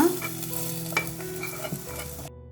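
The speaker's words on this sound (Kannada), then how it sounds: "ಬೆಳ್ಳುಳ್ಳಿ ಒಗ್ಗರಣೆನ ಈ ಸೊಪ್ಪದ ಒಳಗಡೆ ಹಾಕೊಳ್ಳೋಣ." Garlic tempering poured into cooked leafy greens sizzles steadily and close, with stirring scrapes and a few sharper pops, then cuts off abruptly near the end.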